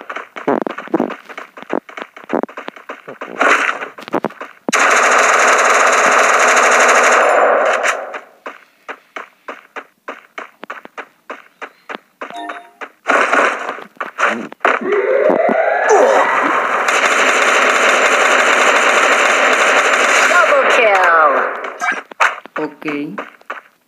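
Bursts of AK-47 fire in the Garena Free Fire mobile battle-royale game, with a long sustained volley near the start and another later on, broken up by short sharp shots and clangs while talk continues throughout.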